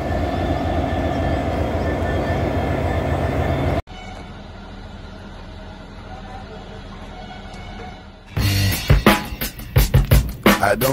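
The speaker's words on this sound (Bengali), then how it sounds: "আলিপুরদুয়ার জংশন স্টেশন, এটাই আমাদেরকে ট্রেনে নিয়ে যাবে।" A train at Alipurduar Junction station rumbles steadily, then the sound drops to a quieter hum before a busier stretch of clattering and loud bursts returns near the end.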